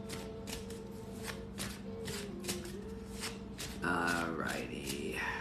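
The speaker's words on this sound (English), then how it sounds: "I am shuffling." A deck of tarot cards being shuffled during a live reading, a run of repeated rapid riffling bursts, close and steady, with a brief voice-like sound near the end.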